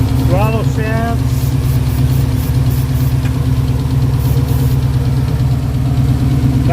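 A 302 small-block Ford Windsor V8 with a tunnel ram intake in a 1965 Mustang runs roughly and steadily with a loud, continuous low rumble. A brief voice breaks in near the start.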